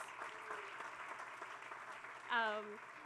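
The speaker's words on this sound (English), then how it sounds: "give them a big round of applause" Guests at a groundbreaking ceremony give a soft round of applause, a faint, distant patter of many hands, with a voice briefly calling out near the end.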